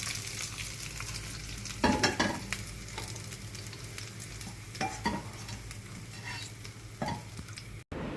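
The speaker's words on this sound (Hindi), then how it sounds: "तड़का जो है वो रेडी है, इसको हम कड़ी पे लगा देंगे।" Hot tadka tempering for kadhi pakora sizzles as it hits the kadhi. A soft, steady frying hiss runs throughout, with a few louder bursts and light clinks of a pan and spoon, and no talking.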